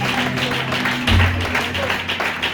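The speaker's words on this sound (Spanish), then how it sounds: "¿Vamos a aplaudir al Señor?" Church congregation applauding during a Spanish-language evangelical sermon in Granada, a steady wash of many hands clapping at moderate loudness for a couple of seconds, with no clear speech over it.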